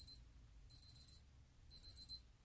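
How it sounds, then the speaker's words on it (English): An alarm clock beeps in three short bursts of rapid high-pitched pulses, faint and electronic, with quiet gaps between. "this is my alarm."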